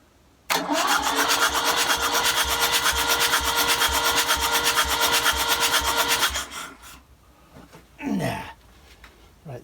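An engine cranks with a rapid, even rhythmic churn for several seconds, then catches and fires, settling into rougher bursts of running near the microphone.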